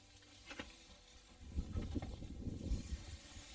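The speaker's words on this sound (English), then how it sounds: "I'm going to put that right on the grill. You can hear that. It sizzles what you want." Crackling, patterned sizzle of food hitting a hot grill, growing louder after a quieter start and continuing steadily with irregular pops.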